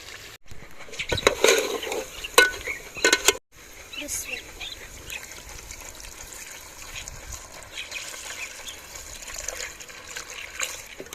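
Water added to beef curry (katay ka salan) cooking in a pot, with a burst of splashing and gushing early on, then a steady low hiss and trickle.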